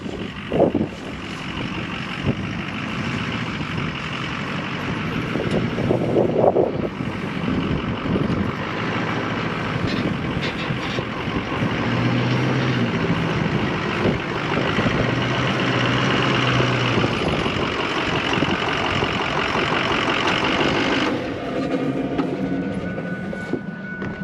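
A Ford truck engine idles with a steady low rumble while the truck is backed up, staying fairly loud and continuous, with a brief higher hiss near the end.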